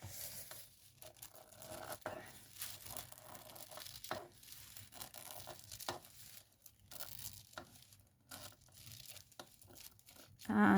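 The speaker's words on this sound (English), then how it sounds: "I'm going to cut down this excess. So just cut down there" Scissors snip through excess craft paper along a glued seam for Christmas hat making, giving soft, irregular cutting and crinkling sounds close by, quiet and broken by short pauses.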